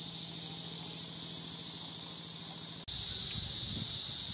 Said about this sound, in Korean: 매미소리밖에 들리지 않습니다.